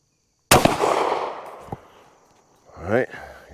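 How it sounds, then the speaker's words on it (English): A Savage Model 42 .410 shotgun fires at an outdoor range: one loud, close blast with a long ringing decay and a faint click afterward. A voice follows near the end. "let's drop one target, one buck, one slug downrange, same target, see what we see."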